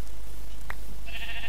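A short bleat of a sheep in a survival video game rises over a constant low electronic hum, followed by a faint high-pitched tone, like a synthesized sheep call.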